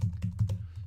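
Typing on a computer keyboard in screenwriting software, with a few quick, close key taps in an even rhythm and a low background hum.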